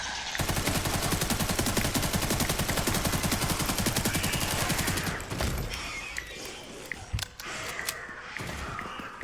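Sustained automatic machine gun fire in the video game Resident Evil Requiem, a fast, even stream of loud shots for about five seconds before cutting off, followed by scattered quieter clatter and footsteps.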